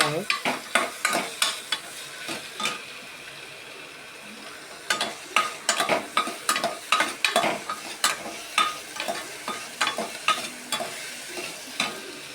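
Tomatoes frying in a pan for home-style khichdi, with a steady close sizzle under repeated scraping, clattering spoon strokes in irregular bursts and a brief quieter pause midway.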